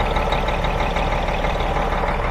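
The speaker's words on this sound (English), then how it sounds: "There we go, we're idling right now." A diesel engine on an RTG container crane idles at low speed, a steady close rumble heard alone.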